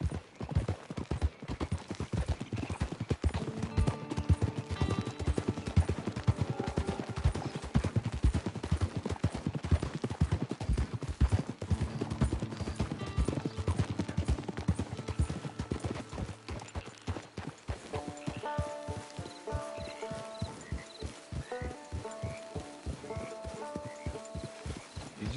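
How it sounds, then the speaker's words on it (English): Horse hooves gallop in a steady, rapid clip-clop rhythm in the Red Dead Redemption Online video game, continuous for the whole stretch, with a musical score running beneath. "Hitch your horse."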